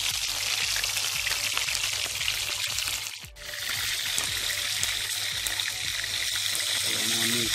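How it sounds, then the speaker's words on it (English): Steady, dense sizzling and crackling of fish frying in hot oil for Jamaican escovitch fish, continuous and close, with a brief dip in the middle. "Fish is ready frying now."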